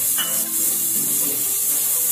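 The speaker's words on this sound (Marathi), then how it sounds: "कांदा टाकू. अशीच फोडणी द्यायची बिना तेलाची, एकदम कमी तेलाची द्यायची." Steady sizzling of onion and cumin tempering frying in a hot pan with very little oil, fairly loud and continuous, with no talking.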